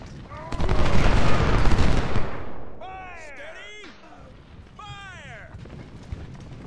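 A loud burst of cannon and musket volley fire from the Civil War strategy game Ultimate General fills the first two seconds, then fades as a raised voice shouts and calls over a quieter battlefield.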